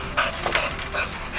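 A dog panting close by, a few quick breathy huffs over a soft background hum, with no voices.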